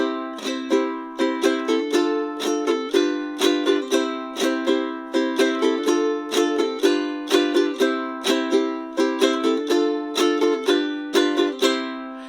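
A ukulele plays a bright, lilting strumming pattern with quick repeated strokes and accented beats, steady and close, no voices.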